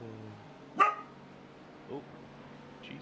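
A dog gives one sharp nearby bark, followed by a softer bark a second later, with a man briefly exclaiming over the first bark.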